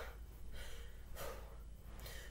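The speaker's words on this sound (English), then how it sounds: "Gotta get that breathing under control." Heavy breathing after exercise during a staff workout: several loud, rough gasps and exhales spaced about half a second apart, close and with no talk.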